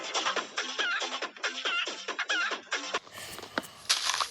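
A chicken in a Minecraft-style game clucks in a rapid series of close, bright cackles, followed by a burst of clattering game noise, with no talk over it.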